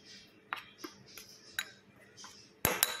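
A spoon stirring baking powder into flour in a bowl, giving a few light, irregular clinks and taps against the bowl, fairly faint, ending in a louder clatter.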